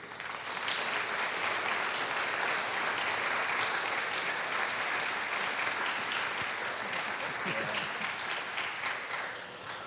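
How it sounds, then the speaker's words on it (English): A large audience at a student film festival breaks into sustained applause, a dense steady wash of clapping that holds at full strength for about ten seconds with no speech over it. "Please give a nice round of applause to Ryan Patrick Cooper."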